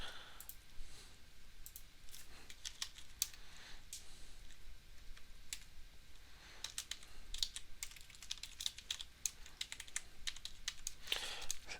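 Typing on a computer keyboard while coding a Java app with MySQL: quiet, irregular key clicks and taps in close, uneven bursts, with no talk.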